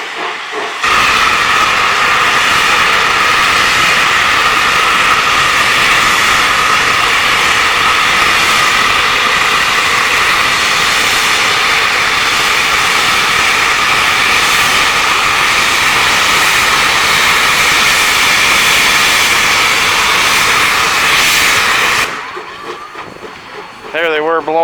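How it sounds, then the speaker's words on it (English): A D&RGW No 346 steam locomotive, overfired, blows off its pop valve in a loud, steady roar of escaping steam that runs nearly the whole time before cutting off abruptly near the end. "There they were blowing the pop valve because they're overfiring."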